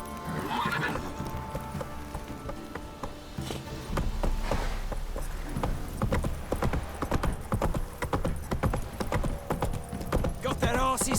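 Hooves of a horse clip-clop steadily on a path in The Witcher 3 video game, loud and close, with a whinny and game dialogue voices over the rhythmic trotting.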